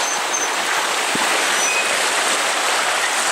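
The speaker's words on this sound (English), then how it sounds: "Provo River Rapids." Rushing whitewater of the Provo River rapids, a dense, steady broadband roar of churning water close by, continuous and unbroken with no voices.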